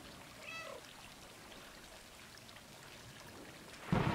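A cat meow in the video game Stray sounds once, brief and clear near the start. A soft rainy ambience runs underneath, and a louder burst of game sound comes at the end.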